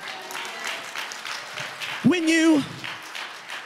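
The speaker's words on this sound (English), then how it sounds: "Golf claps don't help me preach, not at all." Sparse, light claps from a church congregation, a few scattered soft hand claps under a preacher's voice, with a sustained sung or spoken tone in the middle.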